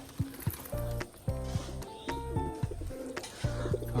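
Domestic pigeons kept in pairs coo repeatedly nearby, a series of low throaty rolling calls overlapping one another, with faint rustling and knocks between them.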